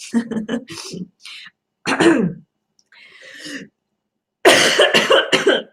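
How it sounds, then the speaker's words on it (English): Loud, close coughing comes in several harsh bursts with short pauses between them, like a fit of hacking and throat clearing. "I have a coughing fit"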